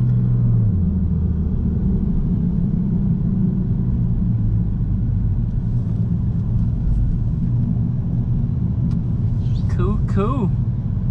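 The 2.0 turbo engine of a 2017 Volkswagen Golf GTI drones steadily while driving, a constant low rumble filling the whole stretch, with a brief voice near the end.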